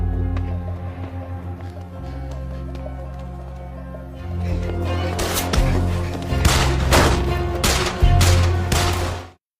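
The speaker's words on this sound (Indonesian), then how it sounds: "Hingga terjadilah aksi baku tembak dan kejar-kejaran di antara kedua geng itu." Gunfire in a gang shootout during a chase from the film Sin Nombre, with a bursting volley of loud close shots over a deep rumbling score that builds toward the end and cuts off abruptly.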